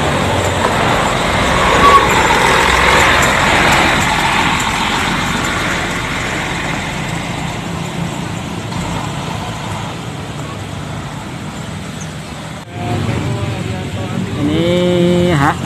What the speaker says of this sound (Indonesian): PPJ Tronton Cosmopolitan dengan mesinnya Mercy OC500RF. Baru masuk terminal Lubuk.